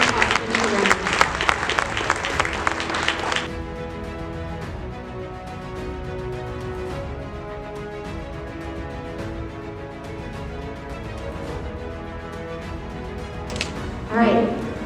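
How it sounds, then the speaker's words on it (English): A school awards ceremony honoring top cross-country runners, with a short burst of audience applause at the start giving way to a steady sustained tone, then a brief swell of clapping near the end. "All right, big round of applause for all of our top runners."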